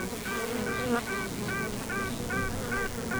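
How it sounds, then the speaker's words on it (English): Rival queen honeybees in their cells quack: a quick series of about eight short, nasal, tonal pulses, each one evenly spaced and close up against a steady hum. "The rival queens answer back with a sound that's known as quacking."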